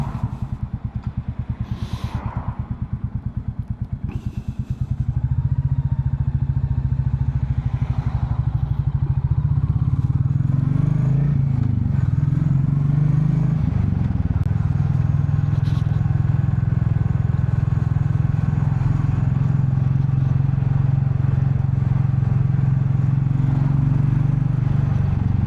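A Royal Enfield Bullet 350 motorcycle idles, then pulls away and is ridden on the road, its single-cylinder engine thumping loud and close with a steady drone and gear changes.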